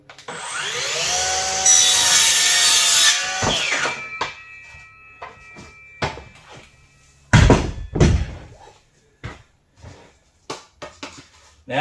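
A hand saw cutting an inch off a wooden board for tiny house wall framing, a burst of rasping strokes and squeaks at first, then scattered knocks and wood clatter with pauses.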